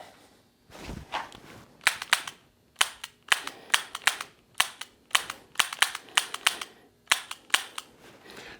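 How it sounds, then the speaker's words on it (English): Revolver shots fired in pairs at a row of targets on an outdoor range: sharp, loud cracks arriving in quick doubles with brief pauses between pairs, about a dozen reports in all. "I'm going to shoot 2 shots on all the targets I have in front of me"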